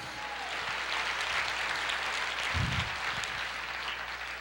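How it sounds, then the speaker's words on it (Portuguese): A church congregation applauds steadily, a continuous even patter of many hands with a brief low thump partway through. "Quantos pode aplaudir o Senhor?"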